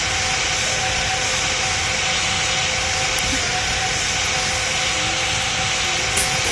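Jet engines of an Emirates Boeing 777 in the PTFS flight game, a steady broadband roar with a faint high whine, continuous and even throughout.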